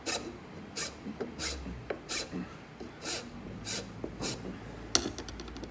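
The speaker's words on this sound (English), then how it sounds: "Just pop that in the vise quickly, and we'll do a quick file of that." A file rasps across a wooden float handle clamped in a vise. Roughly a dozen short, evenly spaced scraping strokes sound close and dry, with a few rapid light strokes at the end.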